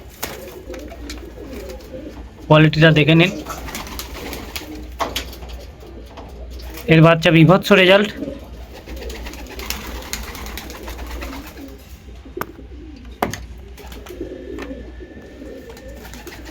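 Pigeons cooing inside a breeding loft, two loud bursts of throaty cooing separated by a pause, close to the listener, with someone talking quietly between them over a low background hum.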